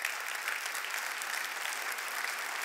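An audience applauding during a political speech in Kentucky, a steady wash of clapping that stays fairly faint and even throughout, with no talk over it.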